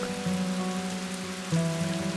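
Monsoon rain falls steadily in India, a soft, even hiss of drops on surfaces with a low constant hum underneath, quiet and continuous.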